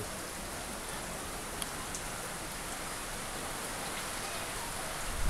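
Heavy typhoon rain pours down steadily in Marikina, a dense, unbroken hiss of drops with no pauses, loud and close.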